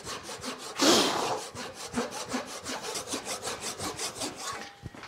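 A hand saw cuts down an existing kerf in wood while a DIY desk is being built, producing a steady rhythmic rasp of push and pull strokes, close and fairly loud, with no talking.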